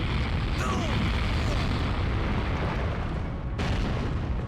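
A big explosion in the video game Resident Evil: Code Veronica X sounds as a dense, sustained rumbling roar with bursts of debris, loud and continuous throughout, with a sharp crack near the end.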